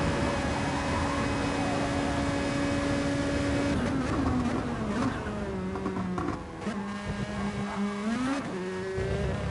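Race car engines in a Gran Turismo Gr.2 league race hold a high steady whine, then drop and rise in pitch through downshifts and re-acceleration in a chicane, loud and continuous with no voices.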